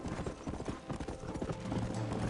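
Horse hooves clip-clop in a video game, a quick close run of irregular knocking steps over a rumbling background, with a low hum building near the end.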